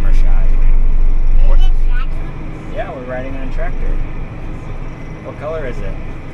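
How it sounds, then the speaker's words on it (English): A John Deere tractor engine drones loudly and steadily while riding through a wheat field, a close low rumble that eases slightly partway through as a child and an adult talk over it. "Yeah, we're riding on a tractor."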